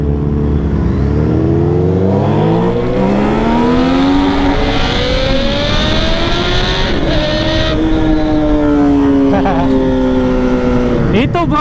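A sport motorcycle, one of an MT-09, CBR1000RR or R6 ridden on a straight with traction control off, accelerates hard in first gear, its engine note climbing steadily and loudly before a quick shift near the end, close and dominant.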